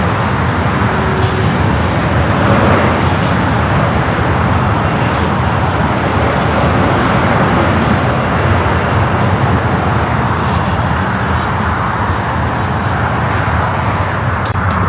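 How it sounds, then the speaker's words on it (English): An airliner taking off from runway 24 Left at LAX gives a loud, continuous jet engine roar that holds steady for the whole stretch without fading. "runway 24 left, clear for takeoff"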